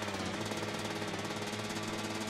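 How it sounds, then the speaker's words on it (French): Rapid, evenly spaced hammer blows fixing a sign in the video game A Way Out, a steady mechanical pounding rhythm at close range with no talking. "je mets des coups de marteau"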